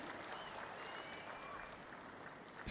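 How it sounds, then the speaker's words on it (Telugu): Steady, dense applause from an audience at a public welfare program in Nellore, held at an even level throughout, with faint speech underneath. "గట్టిగా చప్పట్లు కొట్టి అభినందించండి."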